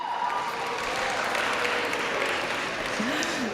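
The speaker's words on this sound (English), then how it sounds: "We're just going to keep clapping." Applause from a graduation-ceremony audience at an 8th-grade promotion, a steady broadband wash of clapping that holds at an even level throughout, with faint voices mixed underneath.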